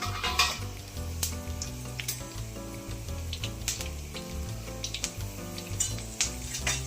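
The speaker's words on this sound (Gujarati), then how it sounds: "લસણ, લવિંગ બાદિયા, તજ, મરચાં, લીમડો ને તમાલપત્ર બધું આપણે આ રીતે વઘાર કરી નાખીએ" Garlic, cloves, star anise, cinnamon, chilies, curry leaves and bay leaf sizzle in hot oil for a Gujarati soya wadi shaak tempering, a steady close frying crackle with occasional spoon stirs and clinks, with music playing underneath.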